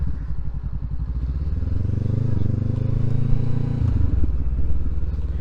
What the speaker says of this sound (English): Can you hear that exhaust?